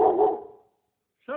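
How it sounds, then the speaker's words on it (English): A pet puppy gives a single close, loud bark, then after a brief silence starts another bark at the very end. "Mika is the pup and Doyle is the human that was yelling in the background"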